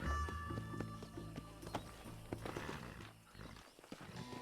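Horse hooves clip-clopping in Red Dead Redemption, a steady close rhythm of footfalls with game music and ambience layered underneath and a brief whinny-like tone.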